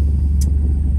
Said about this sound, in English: The RPMs to the rotary rake do not need to be at full gosh damn throttle.